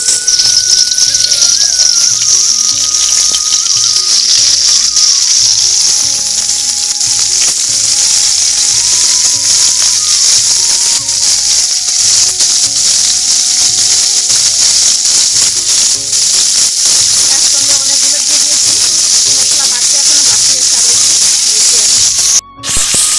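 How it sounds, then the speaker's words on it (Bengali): Shankhachur fish frying in hot oil, a loud continuous hiss and spatter with faint background music and no talk. "একটু ভালো করে ভেজে নেব আজকে মাছগুলো"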